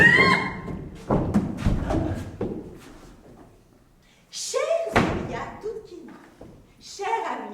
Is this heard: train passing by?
no